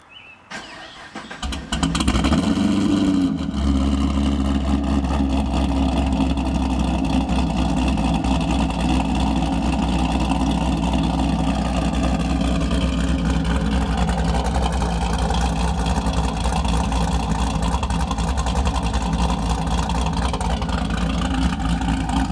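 A cammed 2008 Pontiac G8 with long-tube headers, MagnaFlow exhaust, solo mid pipe and no catalytic converters starts up, then settles into a loud, steady, close lumpy idle that runs on without a break.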